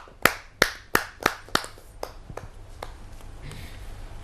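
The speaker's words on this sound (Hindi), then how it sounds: "आइए जोरदार तालियों से" Sharp claps welcome a poet at a kavi sammelan, about eight distinct, fairly close hand claps in a quick rhythm that slow and soften before fading into room noise.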